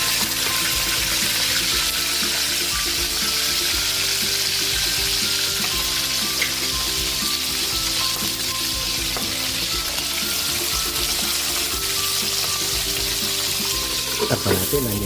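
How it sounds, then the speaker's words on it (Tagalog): Fish frying in hot oil in a pan, a steady dense sizzle and crackle running throughout at close range, with faint clinks near the end and no talking. "Magpiprito na po tayo ng ating pritong isda."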